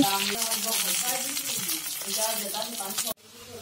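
Karish fish frying in hot oil in a kadai, a steady dense sizzle with a clatter as the fillet is turned, cutting off abruptly near the end.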